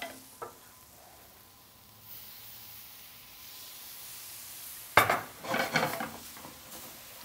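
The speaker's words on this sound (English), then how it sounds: "We're gonna go ahead and slowly add our milk a little bit at a time, just like making a bechamel or any kind of roux." Milk being stirred into a ham and onion roux for country ham gravy in a pan. A faint steady sizzle is broken by a sudden clatter of a utensil against the pan, followed by scraping stirring sounds.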